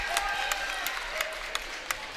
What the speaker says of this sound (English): the Northern Valley faithful stand and cheer